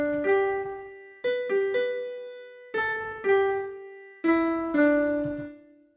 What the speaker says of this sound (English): I have a melody here and want to decorate it with turn.